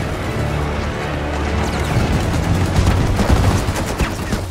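A weapon test-fires in Gears of War 5, a rapid burst of loud, close gunfire rattling out in quick succession over a low rumbling background.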